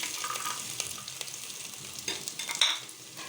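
Chopped garlic cloves frying in a tablespoon of soybean oil in a pan, a steady close sizzle with soft stirring scrapes and a brief sharper spurt near the end, no voices.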